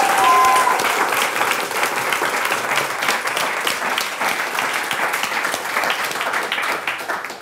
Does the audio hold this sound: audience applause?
yes